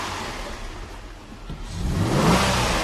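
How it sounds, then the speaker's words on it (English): A Holden VZ Commodore engine, just repaired after a misfire from no spark on cylinders 1, 3 and 5, revs up close and loud, its pitch and volume climbing toward the end. "Let's just rev it a little bit and see if that misfire is gone."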